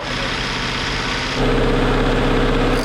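A BMW or Porsche engine drained of oil and held at 2,000 RPM, a loud continuous mechanical drone with a rattling buzz that steps up in pitch and intensity partway through.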